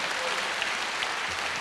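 Audience applause at a public university lecture, a dense, steady patter of many hands clapping that stays loud and even throughout, with no voices over it.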